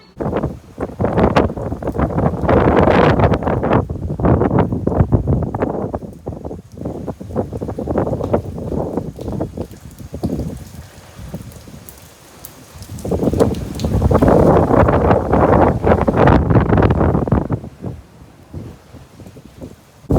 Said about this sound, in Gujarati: વહેલી સવારે જ્યારે જબર પવન હતો ને ઘણો બધો પવન ત્યારે મેં શૂટિંગ ઉતાર્યું હતું